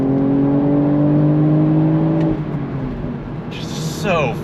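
A 2025 BMW Z4 M40i with a 6-speed manual, top up, pulls hard on throttle in third gear, its engine drone rising steadily with interior cabin resonance, then easing off as speech and a brief mechanical whir follow.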